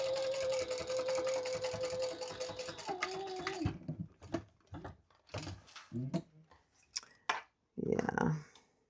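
A sewing machine stitches a zip around a travel wallet in a close, steady run of a few seconds, then stops, followed by scattered clicks and fabric handling.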